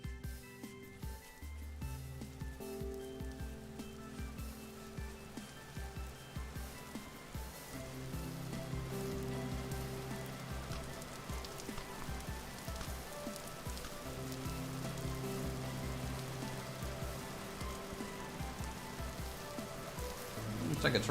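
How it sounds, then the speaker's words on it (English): Rain falls steadily in the video game Vintage Story, a soft, even patter that swells slightly midway and holds at a low, distant level. "Looks like it's raining over here."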